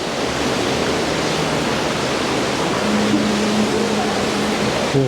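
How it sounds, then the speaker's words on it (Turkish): Water rushing beneath a low walkway platform in an illuminated underground passage, a loud, steady broadband wash filling the whole stretch with a faint tone underneath. "Çok güzel bir su akıyor burada."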